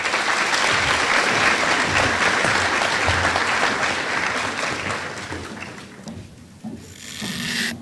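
Audience applause at a middle school graduation ceremony, loud dense clapping from a large crowd that gradually fades and thins out, with a brief sharp noise near the end.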